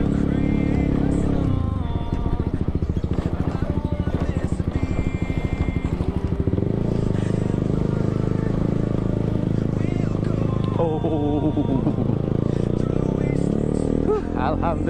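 A road in Pasar Kemis, Tangerang, in a traffic jam: a steady roar of idling and creeping engines, with motorbikes close by and wind buffeting the microphone throughout.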